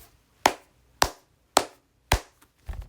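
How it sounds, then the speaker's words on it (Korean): Single pairs of hands clap five times in a slow, even rhythm, each sharp close smack separated by near silence, with the last one slightly weaker. "다시 한번 박수"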